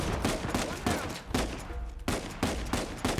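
Rapid gunfire in Uncharted 4, bursts of automatic shots in quick succession with brief gaps between volleys, loud and close.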